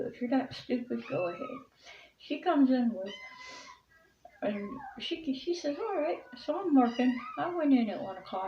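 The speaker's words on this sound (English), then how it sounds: "That's the cat, the baby kitten crying." A baby kitten cries with high, wavering mews scattered through the clip, mostly under continuous close talk from a person telling a story.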